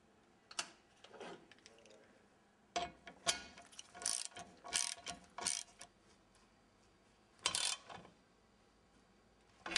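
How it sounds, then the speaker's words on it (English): A socket wrench ratchets down a nylock blade nut during mower blade maintenance, giving several bursts of quick, close metallic clicking separated by short pauses. "secure in place with the nylock blade nut using the socket wrench"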